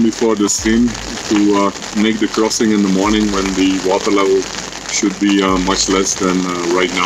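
A ferocious glacial stream roars outside a tent on a Himalayan trek, a steady loud rushing wash that runs continuously beneath a person talking close by.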